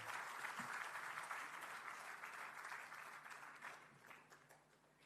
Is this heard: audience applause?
yes